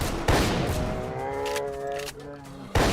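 Bursts of gunfire in a DayZ S.T.A.L.K.E.R. roleplay game crackle at the start and end, with raised voices talking and calling out between the shots.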